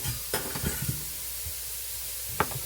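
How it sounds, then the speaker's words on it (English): Steady sizzling of sausage browning in a pan, with occasional clinks and scrapes of a utensil stirring. "Get this burger or sausage brown in here."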